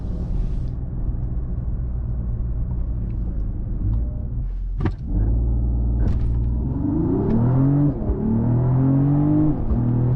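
A 2025 Mercedes-AMG GLE 53 Hybrid SUV idles with a low rumble, then accelerates hard after a brief pause, the engine note climbing loudly through rising gear sweeps heard from inside the cabin.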